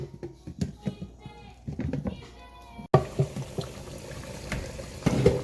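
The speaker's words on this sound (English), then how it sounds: "And let it just bring to a boil" Curry goat simmering in a covered pot on the stove, bubbling softly at close range with a few clinks of spoon against metal, under faint background noise.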